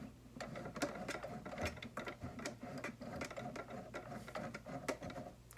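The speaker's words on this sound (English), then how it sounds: "I'm going to do a double stitch" A sewing machine runs a double stitch along the edge of a cloth face mask strap, a steady rapid mechanical ticking with faint clatter, close and continuous throughout.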